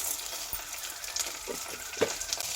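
Red chillies, garlic cloves, cumin and coriander fry in a pan, giving a soft crackling sizzle with light stirring clinks, heard alone.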